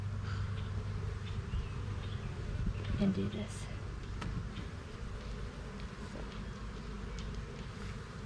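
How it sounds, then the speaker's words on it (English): Honeybees on a heavy hive frame hum in a steady, close drone throughout, while a person speaks briefly over the buzzing. "This one is heavy with bees"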